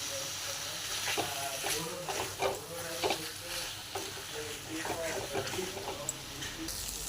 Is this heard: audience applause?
no